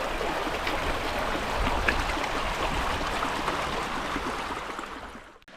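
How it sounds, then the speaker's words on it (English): A flowing brook beside a campsite on the Appalachian Trail in Maine gives off a steady, close rush of running water that holds even throughout and fades out only at the very end. "Flowing brook."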